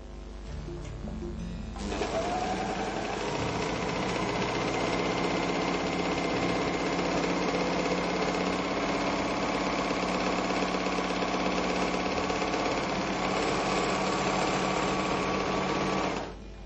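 A Merrylock MK-3000CL overlock machine stitches fabric in a fast, even mechanical whir that starts after a brief pause and runs steadily and loudly for about fourteen seconds before cutting off.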